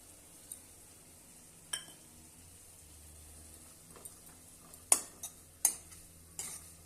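Spring onion chutney with coarsely crushed peanuts is stir-fried in a pan. Sharp, scattered clinks and scrapes of a utensil against the pan come at irregular intervals, with a faint sizzle underneath and quiet stretches between.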